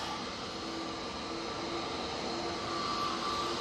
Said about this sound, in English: On final now, just going past Cheadle, we do have the Aer Lingus coming in from